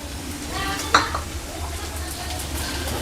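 Spices being stirred into an onion samosa filling in a pan, with chili powder, coriander powder and chicken masala, under a steady broad sizzle and one brief clinking scrape near the middle, faint background murmur throughout.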